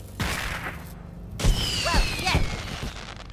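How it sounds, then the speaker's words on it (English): Fireworks in the South Park: The Fractured But Whole video game go off in a rapid series of pops and booms, with whistling streaks rising between the bangs, while game voices can be heard around them. "Fireworks."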